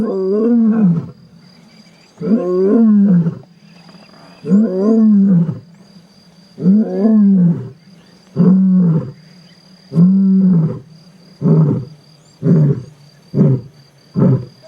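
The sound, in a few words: African lion roaring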